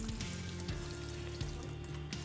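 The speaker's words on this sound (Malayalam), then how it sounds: "ഇനി അടുത്തത് കിസ്മിസ് വറുത്തെടുക്കാം." Raisins fry in hot oil in a pan as a garnish for Kerala-style chicken dum biryani, giving a steady, close sizzle with soft crackles throughout and no talking.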